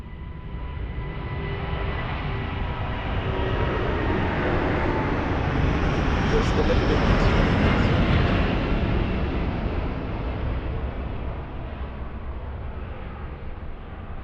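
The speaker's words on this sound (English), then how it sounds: "Lewis, this is an A330 Neo. It's just departed then." An Airbus A330neo airliner departs Lisbon Airport with a loud, broad jet engine roar that swells to a peak midway and slowly fades as it climbs away.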